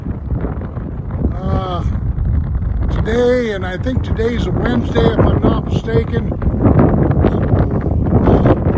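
Strong afternoon wind in Livingston, Montana buffets the microphone outdoors as a low, continuous roar beneath someone talking throughout.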